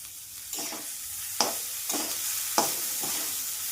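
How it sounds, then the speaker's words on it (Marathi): Chopped, washed coriander stirred and roasted in a pan: a steady run of scraping, sizzling stirring strokes repeats about every half second, close and moderately loud, with no talking. "मस्तपैकी भाजणार कोथिंबीर टाकणार"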